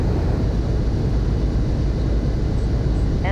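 A fixed-wing airplane rolls for takeoff on runway 07, its engine a steady broadband roar with a deep low rumble that holds constant throughout, close and loud.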